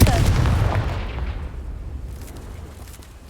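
A Confringo blasting spell in Hogwarts Legacy detonates as a heavy, booming explosion with a deep low rumble that fades out over a few seconds, loud and close.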